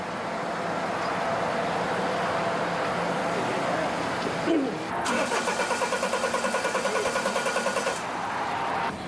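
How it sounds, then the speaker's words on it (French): A stalled truck at a motorway rest area in Poland is cranked repeatedly and fails to restart. A steady rapid starter whirr rises out of background traffic and engine hum and runs for several seconds. "Il a calé, il redémarre pas."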